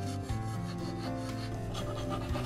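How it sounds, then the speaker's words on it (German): A knife sawing horizontally through a carrot cake layer, a continuous close rasping, scraping texture with a steady level and nothing else over it. "Den zweiten Boden schneide ich auf 1 cm durch."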